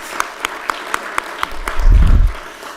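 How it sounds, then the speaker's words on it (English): A few sharp, evenly spaced claps ring out in a county commissioners' meeting room, followed by a low rumbling swell as the applause briefly builds and fades. "That deserves a round of applause."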